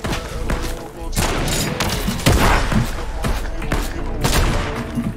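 Shotgun blasts in a trickshot-style shooter game, loud repeated booming shots in quick succession over dense game noise, with a voice talking underneath.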